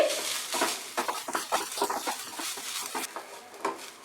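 Grated coconut frying over medium heat in a pan while being stirred, giving a soft continuous sizzle broken by irregular scraping and clinking of a utensil against the pan.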